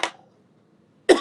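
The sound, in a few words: cough from person with a cold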